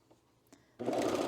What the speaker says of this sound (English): so now we're gonna sew this one to this band here